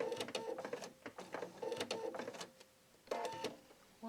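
Sewing machine stitching a parasol cover, bursts of rapid mechanical whirring and clatter starting and stopping in short runs, with a brief pause near the end before one more burst.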